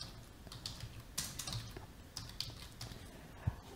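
Quiet typing on a computer keyboard, a run of soft, irregular key clicks with a few louder taps and one sharp click near the end, heard close and alone with no talk.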